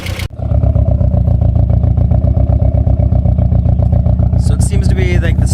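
A 1992 Plymouth Laser engine revs up after a sharp start, a loud, close, steady mechanical drone with a fast ticking lifter clatter running through it, and a rising whine near the end.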